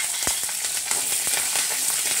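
Green chillies crackle and sizzle in hot oil for gooseberry rice, a steady broadband hiss with a few sharp pops and spoon taps near the start.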